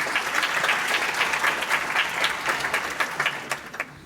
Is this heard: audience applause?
yes